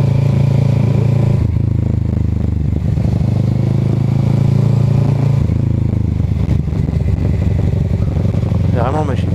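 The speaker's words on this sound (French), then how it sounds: "Avec ma petite moto, ma petite R6N." A Yamaha R6 sport motorcycle engine roars steadily while riding, loud and close, with wind noise, occasional rattles and brief throttle changes; a voice is heard over it.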